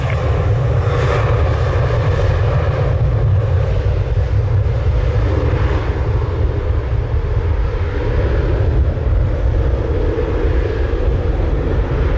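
A fixed-wing airplane on approach to land on runway 07 gives a loud, continuous engine roar that holds steady throughout, with no other sounds standing out.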